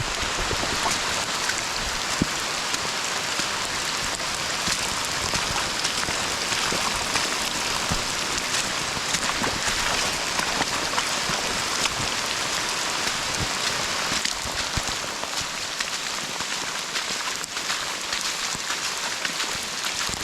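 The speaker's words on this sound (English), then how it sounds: "it's just raining a little bit. Just a little bit of drizzle." Light drizzle falling outdoors on a forest trail in Algonquin, a steady soft hiss of rain with faint scattered drops, continuous and even throughout with no voices.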